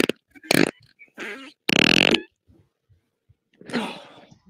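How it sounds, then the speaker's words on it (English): Several short, buzzy fart-like bursts come in quick uneven succession, some brief and one longer raspy blast, with a final softer spluttering burst after a pause; no talk is heard. "This is now a fart, by the way."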